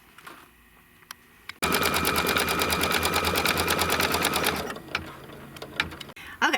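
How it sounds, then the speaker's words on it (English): An embroidery machine runs a fast, even, rapid-fire stitching chatter for about three seconds while working the embroidery on a Kimberbell mystery quilt block, starting abruptly after quiet and then fading to faint clicks and handling sounds. "it finished stitching all of just the embroidery part"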